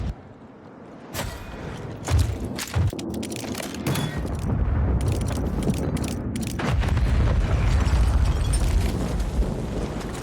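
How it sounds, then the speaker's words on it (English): Cruise missile strike exploding in a military shooter video game, heard as a series of heavy booms and cracks that roll into a sustained loud rumble with scattered sharp blasts. "Oh, that's our missile. Friendly cruise missile approaching target."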